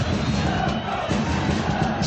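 A dense, roaring football crowd at the Dundalk versus Shamrock Rovers 2014 EA Sports Cup Final, a steady broad wall of noise and chanting with no pauses, close and loud.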